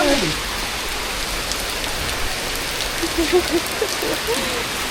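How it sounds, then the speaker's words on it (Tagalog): Steady hiss of rain falling outdoors near a park, an even, continuous patter with a few faint voices underneath. "We'll enjoy the rain."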